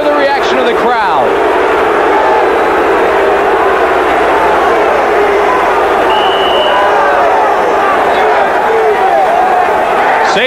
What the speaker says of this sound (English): you can hear the reaction of the crowd